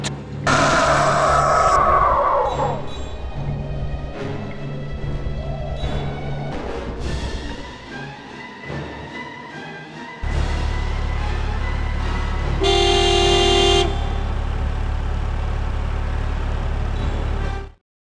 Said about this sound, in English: The car screeched to a halt, and Harry dived inside.